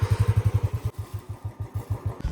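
A Royal Enfield Bullet motorcycle engine thumps close by in a steady, even single-cylinder beat, running briefly faster and then settling into a slightly slower idle rhythm.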